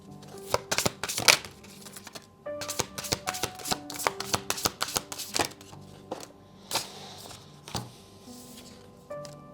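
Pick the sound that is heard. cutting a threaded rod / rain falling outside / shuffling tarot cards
shuffling tarot cards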